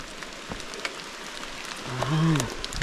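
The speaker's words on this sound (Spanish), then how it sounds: "En realidad la lluvia está" Steady rain pattering around rustic stone ruins, an even close hiss with scattered drop ticks, while a voice briefly rises over it near the end.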